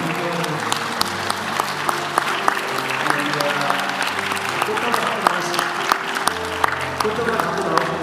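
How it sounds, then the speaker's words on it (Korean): Church congregation clapping at an ordination service, loud continuous applause from many people with sharp individual claps, accompanied by sustained organ or keyboard chords beneath. "여러분 큰 박수와 존경을"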